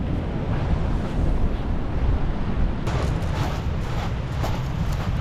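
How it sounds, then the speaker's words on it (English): Big ocean waves crash onto the shore on the Olympic National Park coast with the tide coming in, a loud continuous roar and surge mixed with wind buffeting the microphone. "Waves are getting pretty big."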